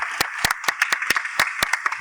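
Audience applause at an annual school function: a burst of sharp, uneven handclaps from a crowd, with several louder close claps standing out over a steady patter for two seconds, no talking.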